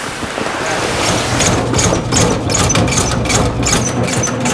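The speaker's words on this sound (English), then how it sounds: "Tractor's running? Yeah, Flour is being made?" A tractor-powered stone mill grinds grain into flour, a loud, steady low engine rumble with a rough grinding wash and scattered higher clattering bursts, running continuously without talk.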